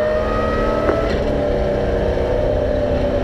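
A race car engine held at full throttle during a race, a steady, loud droning roar that continues without a break.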